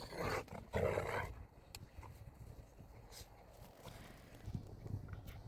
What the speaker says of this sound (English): That growling is just playing.